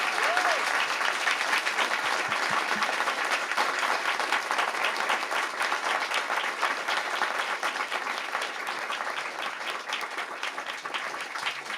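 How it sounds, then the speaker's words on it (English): Sustained audience applause fills a lecture hall on homelessness in San Francisco, a steady dense patter of many hands clapping at even loudness throughout, with no talking over it. "let us give Dr. Margot Kushel a round of applause"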